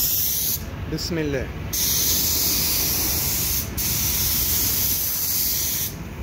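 A spray gun hisses loudly and steadily as paint goes onto a car hood mounted on a stand, the spray cutting off in short gaps between passes while someone briefly speaks at the start.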